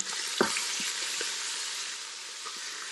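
Short ribs sizzling in a Ninja Foodi as they are flipped, a steady close frying hiss with a few brief scrapes and clicks from the turning meat, no voices.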